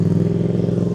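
BMW M1000 motorcycle riding away, a steady mid-pitched engine drone heard briefly and fairly close, without talk.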